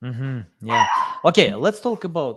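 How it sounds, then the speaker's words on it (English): Dogs bark in short, sharp bursts during a live podcast recording, close by and mixed in with someone talking. "Sorry for my dogs. They usually take part on my podcast"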